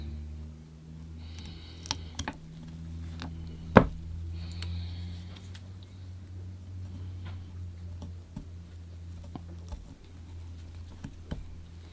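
Small clicks and scraping taps as a tool tidies a saw cut on a bonsai branch, sparse and close, with one sharper knock and a low steady hum underneath.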